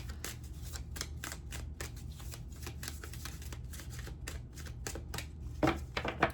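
Tarot cards are shuffled repeatedly in quick, crisp riffles and taps, close and soft, with a few louder snaps toward the end.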